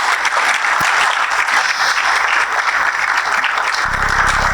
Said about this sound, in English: So can we give him a big round of applause